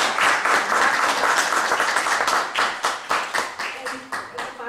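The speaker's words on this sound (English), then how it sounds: "So big round of applause for these folks." An audience at a community meeting applauds a steering committee: dense, loud clapping from many people that thins into scattered individual claps toward the end.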